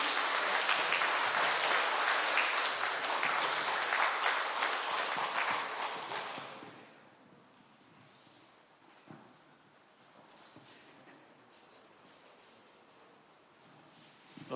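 A large audience applauds loudly and steadily at a talk concert for an incoming regional branch chief of a water resources corporation, then the clapping drops away abruptly into quiet room tone with faint stirrings.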